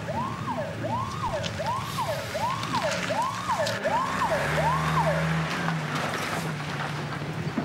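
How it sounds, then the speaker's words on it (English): An ambulance siren wails in a steady rising and falling cycle over a low rumbling background, fairly close, with no talk over it. "The ambulance is here"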